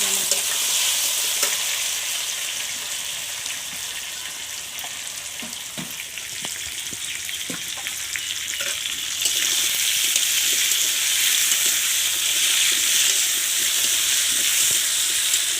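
Chicken seasoned with turmeric and salt fries in a pan in a village kitchen, making a loud, continuous sizzle with intermittent stirring scrapes. The sizzle grows fuller and louder partway through, and no voices are heard.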